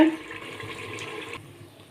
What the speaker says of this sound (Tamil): இப்போ கொதிக்க வச்சுருக்கிற தண்ணியை சேர்த்துக்கலாங்க.